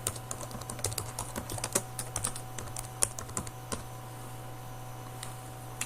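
Fingers tap steadily on a computer keyboard, with quick, light, irregular key clicks close up over a faint steady hum.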